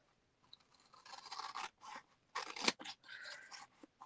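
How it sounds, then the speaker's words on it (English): Large scissors slice through card in a string of crisp, rasping cuts with short pauses between strokes, close and fairly quiet, with a sharper snip near the middle and no talking. "So get my big scissors. Let's cut this down a bit."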